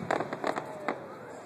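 Fireworks burst over a lakeside park in several quick popping bursts within about a second, then fade into a faint lingering rumble, heard at moderate distance.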